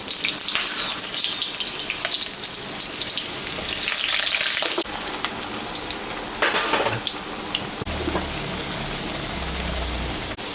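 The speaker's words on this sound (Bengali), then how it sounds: "এখন আমি সর্ষের তেল দিয়ে দিলাম। যে আলুটা আমি এখন ভাজা করে নেব।" Potatoes fry in hot mustard oil in a home kitchen pan, a loud, steady crackling sizzle that runs throughout, with brief stirring scrapes and no voices.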